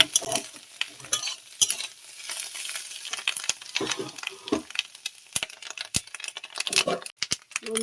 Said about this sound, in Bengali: মাছের ডিম পেঁয়াজ দিয়ে ভাজা।